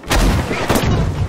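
Bombing explosions pound a Battlefield 5 Breakthrough battlefield. Heavy, booming blasts land in rapid succession, loud and close, with rumbling low end and crackling debris filling the short burst.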